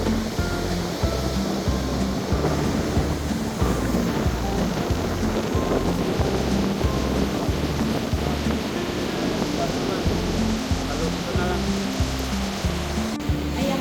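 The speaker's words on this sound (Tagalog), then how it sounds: "kahit na malakas na yung alon" Strong sea waves surge and wash continuously during an outing, with a steady roar and rhythmic low pulses, loud and close, with some boat or wind rumble mixed in.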